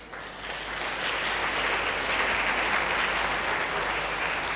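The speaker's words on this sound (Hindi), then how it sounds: "जबरदस्त ताली होनी चाहिए अग्रवाल सर के लिए।" An audience at a corporate achievers training session breaks into loud, sustained applause, a dense wash of many hands clapping together without a break.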